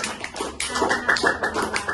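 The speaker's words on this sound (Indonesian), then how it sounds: "Beri tepuk tangan untuk kita semua." A class of sixth-grade students claps together after a group presentation, making sharp, uneven bursts of hand claps that hold steady for about two seconds.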